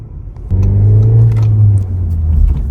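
A 2019 VW Golf 1.5 engine hums up as the car pulls away and drives, a close steady rumble with a slight rise in pitch.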